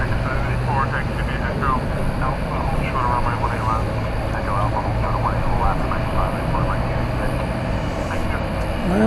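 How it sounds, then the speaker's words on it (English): Jet airliners queue at DFW Airport waiting to take off, with a continuous engine roar and whine in the background, someone talking over it throughout. "just a whole bunch of planes hankering to take off there"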